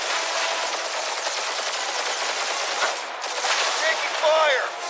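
Rapid gunfire in the video game Guardians of the Galaxy during a boss fight against Glah-Ree, a dense stream of shots with effects sweeping over it near the end.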